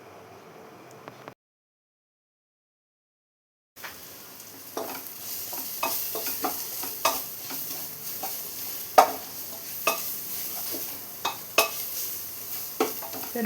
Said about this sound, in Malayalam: ഇതിൻ്റെ റോസ് സ്മെല്ലൊന്ന് മാറുന്ന വരെ ഒന്ന് വഴറ്റി കൊടുക്കാം.